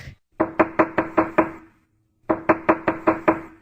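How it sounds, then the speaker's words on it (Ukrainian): Two quick bursts of hammer knocks, about six sharp blows each, separated by a short pause, loud and close with nothing else. "Стукає молоток."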